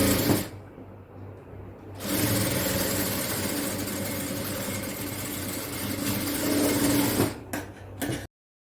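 A sewing machine stitches a kids' frock, running in one long steady whir after a brief pause, then stopping and giving a few short bursts before cutting out.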